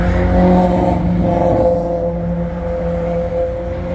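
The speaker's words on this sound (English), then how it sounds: "Nice Aston Martin DBX just rolling through town." An Aston Martin DBX SUV drives past on a town street in Beverly Hills, its engine a steady near rumble that rises briefly and then fades slightly as it rolls by.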